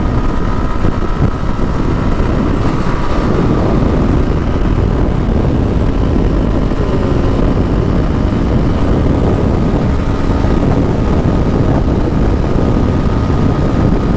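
A motorcycle engine is held in fifth gear while riding at speed, producing a loud, steady engine drone mixed with rushing wind noise, continuous throughout with no talking.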